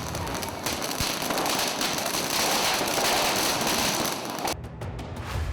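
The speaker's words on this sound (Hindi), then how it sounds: "जिन्होंने सब कुछ जानते बूझते पटाखे फोड़े" Firecrackers bursting during Diwali, a dense stretch of rapid crackling pops and bangs that swells and then cuts off, followed by a few scattered cracks, with no talking.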